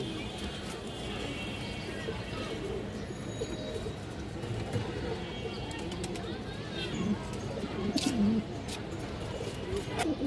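Pigeons of fancy breeds such as silver, khaki and green-necked birds coo in a loft, a steady low murmur of calls with occasional flutters and faint bird chatter throughout.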